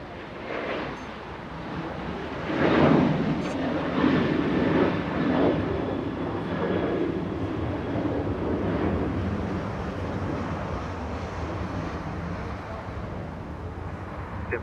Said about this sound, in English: Little 737 flying to Hawaii, a 737-800. United 3034, that's the flight number.